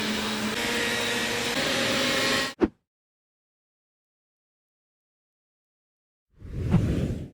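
A Xiaomi Dreame D9 robot vacuum whirs with a loud, steady broadband motor noise, then cuts off with a brief click. After a few seconds of silence it starts up again, a little quieter, with no voices.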